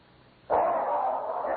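A dog barks once, loud and close, a single sharp bark trailing into a short rough sustained yelp, with no talking.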